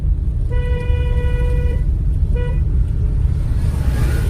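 Two car horn honks, one long blast then a short tap, ring out over a steady engine and road rumble during a driving lesson in India.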